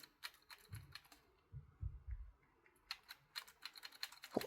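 Keys pressed on a Razer keyboard with a row of keys not working, clicking in two quick clusters separated by a pause, with low thumps beneath; faint and close, no talk.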